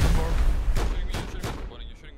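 Gunfire cracks in the video game Rust, several loud sharp shots in quick succession over a deep rumbling background, close and dominant.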